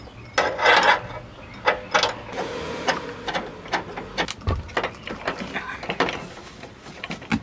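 A ratchet clicks in quick, uneven bursts while screwing a shoulder belt bracket into a 1965 Ford Falcon, close and fairly loud, with short pauses between strokes.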